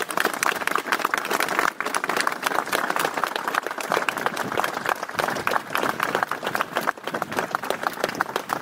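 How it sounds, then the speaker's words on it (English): A gathered crowd at a Celtic Graves Society event applauding Fergus McCann, dense loud hand clapping close by that keeps going strongly for several seconds. "with a round of applause."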